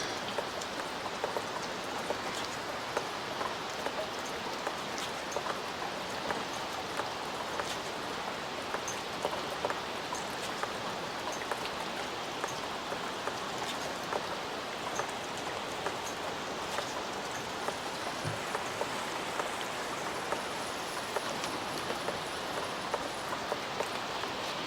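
Steady rain falls in a continuous, soft hiss of drops on surfaces, with scattered individual patters standing out and no voices over it.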